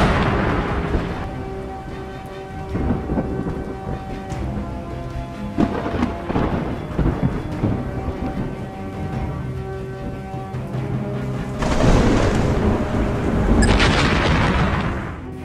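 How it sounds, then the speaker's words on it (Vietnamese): Thunder rolls and booms through a heavy lightning storm over Canton Tower in Guangzhou, several loud rumbling crashes mixed with steady rain, and a sharp hissing burst of downpour near the end. "tháp Quảng Châu thường xuyên bị sét đánh trúng"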